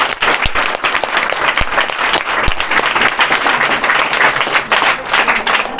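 Loud, steady applause from a crowd at a school event for 12th-grade students, dense clapping sustained throughout without pause.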